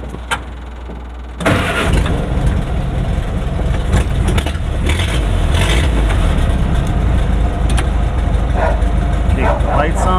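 A 1949 Willys CJ2A jeep, an abandoned project brought back, with its engine starting up and then running loud and steady while driving, a rough continuous drone with people talking over it.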